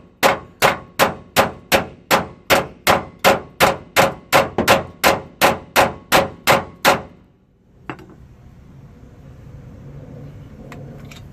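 A rapid, steady run of about seventeen ringing hammer strikes pounds on stubborn rear leaf spring bracket bolts of a Ford Ranger XLT pickup, close and loud, then stops, leaving a faint clunk and low background noise.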